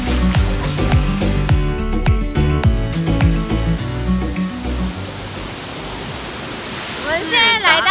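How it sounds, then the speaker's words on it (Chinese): Serendah waterfall in Selangor, Malaysia: a steady broadband rush of falling water fills the scene at close range, with people talking over it. "我们现在来到斯人达的瀑布。"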